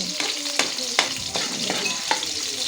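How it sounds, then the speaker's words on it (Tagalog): Garlic and ginger sauté in a hot pan for a tomato mussel dish, a steady bright sizzle broken by several sharp scrapes and taps of a spatula stirring at irregular intervals, close and fairly loud with no talking. "Ayan, pisahin lang kunting bawang at bago ilagay ang luya. Ayan, luya guys. Yan, gisa-gisa lang para lalabas yung kanyang bango."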